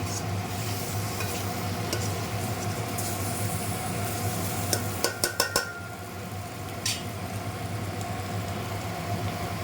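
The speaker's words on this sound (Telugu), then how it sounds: "ఇవి కూడా వేగిన తర్వాత ఎగ్స్ కూడా కొంచెం వేపుదాము." Eggs frying in a pan for an egg curry, a steady broadband sizzle throughout with a few sharp metallic scrapes and clinks of a spatula midway, close and fairly loud, no talking.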